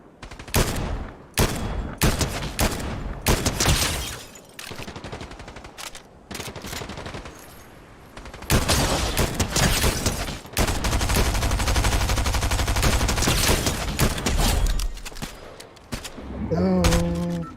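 Rapid bursts of automatic gunfire in a Fortnite match, loud and repeated in long rattling volleys with short gaps between them, with a voice briefly speaking.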